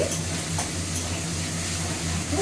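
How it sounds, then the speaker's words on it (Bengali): Garlic paste fries in a pan with a continuous, even sizzle and a low hiss close by, with occasional faint stirring scrapes and no talking. "ভাজা ভাজা করে নিচ্ছি"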